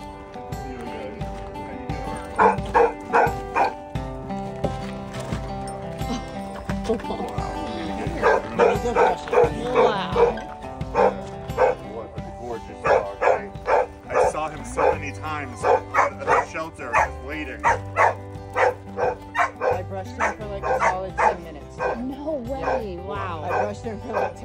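Rescued dogs at a California boarding facility bark repeatedly in sharp bursts throughout, loud and close, with someone talking over much of the barking.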